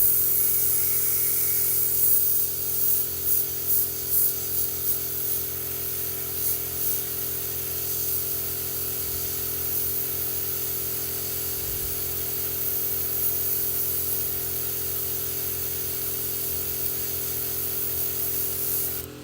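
Airbrush spraying white paint onto a Warhammer miniature: a steady close hiss of air and paint that runs almost unbroken, with a few short pulsing bursts near the start as the trigger is worked, alone with no talk.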